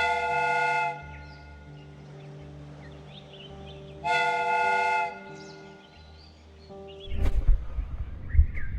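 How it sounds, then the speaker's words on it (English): Steam whistle of a replica train in the video game Sherlock Holmes: Crimes and Punishments, sounding two long, loud harmonic blasts separated by a pause, with a clanking mechanical burst at the end. "The steam whistle is ready to be used."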